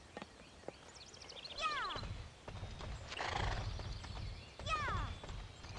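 A video game horse whinnies twice amid clip-clopping hooves, with a snort or rustle between the neighs, moderately close and fairly quiet.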